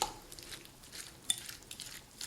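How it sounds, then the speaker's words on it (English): Pico de gallo salsa of lime-dressed chopped vegetables stirred in a bowl, with soft, quiet scraping swishes and a few light utensil taps over about two seconds, close and faint with no talking. "Now let me give that a stir."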